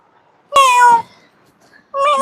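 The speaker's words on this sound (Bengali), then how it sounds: "বিলাই ঘরের ভিতরে" Two loud, close cat meows separated by a short pause, the first drawn out and the second cut off.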